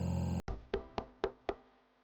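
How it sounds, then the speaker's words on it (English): Five evenly spaced knocks on a door, crisp and fairly close, ringing out in a quiet room after a sustained tone cuts off abruptly. "A knock at the door"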